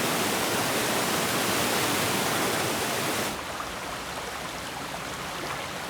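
A waterfall roars as a loud, steady broadband rush that drops to a softer wash partway through, as if moving farther from the falls, with no voices.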